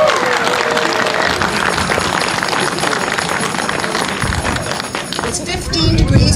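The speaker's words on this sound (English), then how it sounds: "So can we all have a round of applause for CP?" An outdoor crowd applauds for the CP Holiday Train in Lytton, B.C. Steady, dense clapping and cheering carries on throughout, with crowd voices mixed in.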